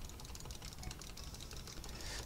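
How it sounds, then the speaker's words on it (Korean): Soft, quiet keystrokes on a mechanical keyboard with low-noise red switches, a steady rapid patter of light clicks picked up by a headset microphone at low level. "마이크와 키보드 소리를 동시에 내보도록 하겠습니다"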